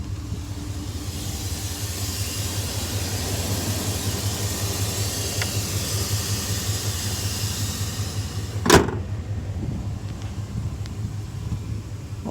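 Steady low engine rumble from a Dodge Dakota SLT Quad Cab with the 4.7L V8, idling evenly and close by, with a single brief knock or thump partway through.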